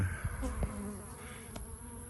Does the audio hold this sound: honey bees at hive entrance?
yes